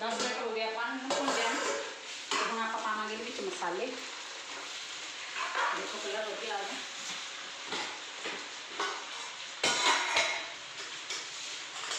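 Green beans and potatoes roast in a pan over a low flame, giving a continuous sizzle and frying hiss with intermittent stirring scrapes and clinks while a person talks over it.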